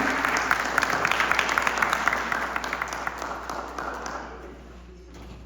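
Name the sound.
loud applause for the children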